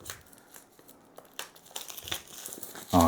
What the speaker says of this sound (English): Get this box open.